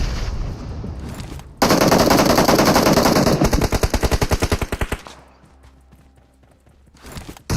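Automatic gunfire in the PUBG Mobile video game, a loud sustained burst of rapid shots that slows into distinct rhythmic rounds before fading to quieter background sounds and a final shot.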